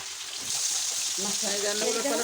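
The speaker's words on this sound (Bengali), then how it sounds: "বেগুনে যে হালকা ভাজি করে নিয়ে তারপরে মনে হয় রান্না করবে" Eggplant lightly frying in a pan for a fish and eggplant curry makes a soft sizzle that swells after the first half second and holds steady, close by.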